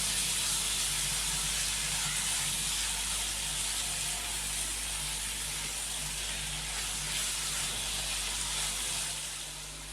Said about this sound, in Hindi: तो थोड़ा सा और फ्राई करेंगे ताकि टमाटर भी थोड़े से नरम हो जाएं